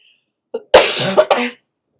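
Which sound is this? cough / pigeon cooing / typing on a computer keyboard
cough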